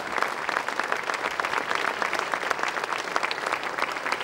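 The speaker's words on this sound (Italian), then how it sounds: "vi chiedo un applauso" An audience applauds with dense, steady clapping from many hands, sustained and even throughout, heard from within the crowd.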